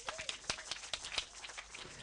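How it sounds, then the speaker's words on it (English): Brief clapping from an event audience welcoming a speaker to the stage, a few scattered close claps at an uneven rhythm over roughly two seconds. "Also big round of applause for Patricia."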